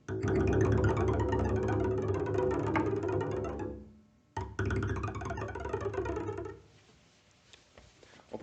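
Double bass strings bowed at the tip of the bow and then left to ring, a dense, buzzing sustained tone that breaks off briefly, returns, and fades into a resonant decay, heard alone.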